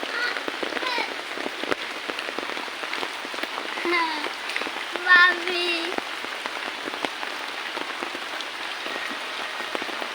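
Steady rain pours onto surfaces by a flooded riverbank yard, a dense continuous patter throughout, with a voice speaking briefly and some bird-like calls rising over it.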